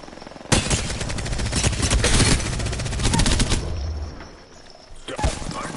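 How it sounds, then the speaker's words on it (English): Gunfire in the shooter game Apex Legends, rapid automatic bursts that crackle densely for a few seconds, then fade into quieter ambience before a final shot. "Who's shooting at me, bro?"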